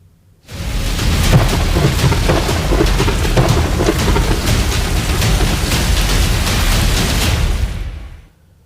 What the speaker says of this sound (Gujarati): ગુજરાતમાં વરસાદ ધબધબાટી બોલાવશે